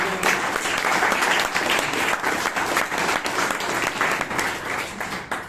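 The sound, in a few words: round of applause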